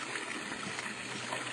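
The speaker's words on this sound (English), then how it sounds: "What's that noise? Sounds like running water." Running water fills a bathtub, a soft continuous trickle and splash heard at low level from a short distance, with no voices.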